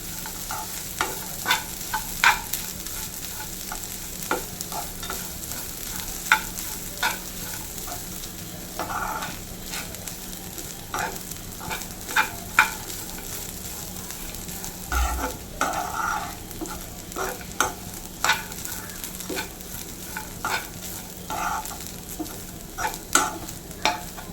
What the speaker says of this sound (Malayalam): ഇതെല്ലാം കൂടെ നല്ല ഉളന്ന് മൂത്ത് വരട്ടെ തേങ്ങാപ്പീരയുടെ വെള്ളമയൊക്കെ ഒന്ന് പോകുന്ന നേരം ചെറുതായിട്ടൊന്ന് ഫ്രൈ ചെയ്തൊക്കെ എടുക്കും